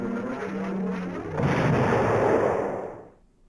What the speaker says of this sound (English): Let's airstrike you.